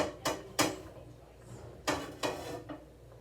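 A frying pan set down on a kitchen stove with a few sharp metallic clunks and knocks, spaced irregularly over a quiet room.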